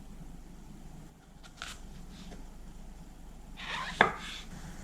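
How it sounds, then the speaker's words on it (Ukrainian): A single sharp knife chop through mushrooms against a board stands out near the end, with a few faint scrapes and taps before it in a quiet kitchen. "Нарізаю гриби на половинки або четвертинки, якщо гриб великий."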